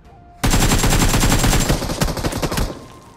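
A burst of loud, close AKM rifle gunfire in a battle royale game: rapid automatic shots in quick succession for about two seconds, then a short tail of echo.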